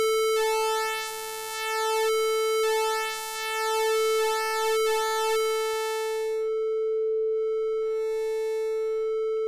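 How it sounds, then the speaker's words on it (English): A steady sine wave tone from the BLEASS Megalit software synthesizer sustains throughout, clean and loud, with brighter harmonic-rich notes swelling in and out over it during the first few seconds. "So I'm going to stick with sine wave for a moment."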